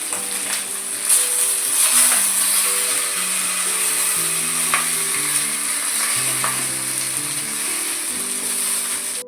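A whole chicken fries in a pan with a steady, close sizzle, broken by occasional scraping and stirring as it is turned, with no talk over it.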